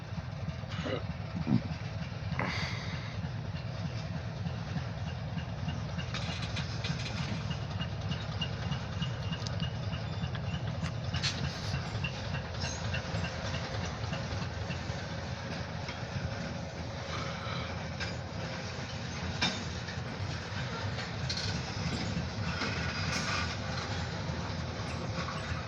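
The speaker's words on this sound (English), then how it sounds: "Got a short freight train." A short OC&T freight train of empty hoppers rolls southbound through the freight yard in Titus, a steady low rumble with faint rail clatter and occasional squeaks, fairly distant and unchanging.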